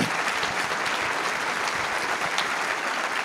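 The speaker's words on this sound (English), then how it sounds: "Let's give them a big round of applause." Dense, steady audience applause at a panel event fills the whole stretch, loud and continuous with no voices above it.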